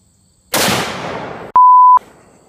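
A single 7mm rifle shot cracks loud and close, followed by a decaying rumble and then a brief electronic beep tone.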